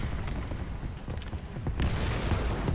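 Artillery fire in a tank video game booms in dull, muffled blasts over a constant engine-like rumble, with a heavier impact near the middle and no talking.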